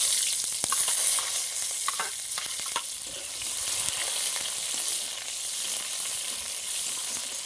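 Cumin seeds, bay leaf and onion fry in hot oil while being stirred, a steady loud sizzle with crackling pops and occasional scraping, close and without talk.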